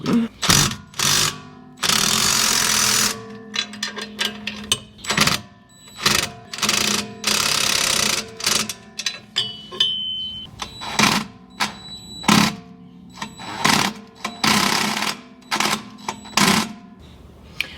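Bolts on Ford Bronco off-road protection are tightened with a series of rapid, rattling mechanical bursts separated by short pauses, loud and close, with no talk.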